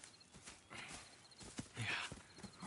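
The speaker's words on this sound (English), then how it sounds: "More horses?" Horses walk in the video game Red Dead Redemption 2, their hooves clip-clopping in an uneven rhythm at close range, with soft game ambience, a short snort-like burst and brief muffled voices.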